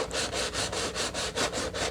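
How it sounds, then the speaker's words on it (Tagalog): Coarse 180-grit sandpaper rubbed by hand over a plastic hamster bin cage in quick, even back-and-forth strokes, close and loud, with about eight steady scrapes and no voices. "Liha."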